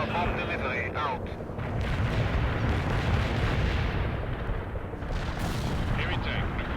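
Heavy bomb-strike explosions from the real-time strategy game World in Conflict rumble loud and continuous, a dense roaring barrage that swells and lingers.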